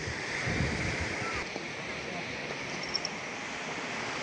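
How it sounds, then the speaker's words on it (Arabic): Surf washes steadily onto Tamrabet beach near Tetouan, a continuous rushing wash under gusty wind with a faint voice briefly in the background. "ها هو شاطئ تمرابط"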